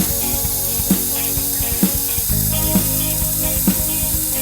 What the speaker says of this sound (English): Demonstrate welding function.